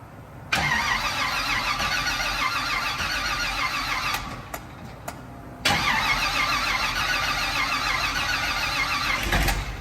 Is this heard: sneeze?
no